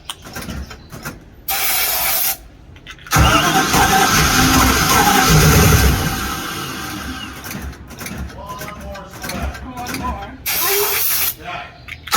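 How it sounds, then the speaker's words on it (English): A loud hissing spray into the carburetor of a houseboat engine at a marina runs for a few seconds amid bursts of noise and mechanical sounds, with voices talking in the background. "What if you spray it in the 2 front barrels of the carburetor"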